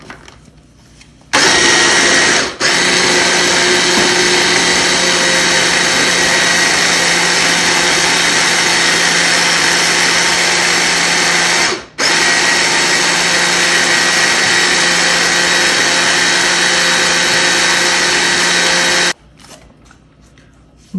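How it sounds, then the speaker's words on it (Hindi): A blender purées raspberries with sugar for a sauce, a loud steady whirring roar running continuously for many seconds with two brief dips, stopping abruptly near the end. "चीनी अंदर डाल देंगे, बहुत अच्छे से ब्लेंड करेंगे"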